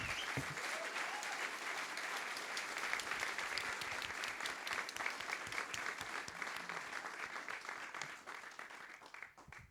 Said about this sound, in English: Please, round of applause for these three guys.